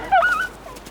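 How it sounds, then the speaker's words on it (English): A single short, high-pitched yelp from a dog, fairly distant, followed by quiet outdoor background. "Simeon, can you hear Rocky barking?"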